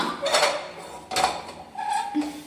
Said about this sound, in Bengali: এই যে কড়াইটা উনুনে দিচ্ছে পাচ্ছ না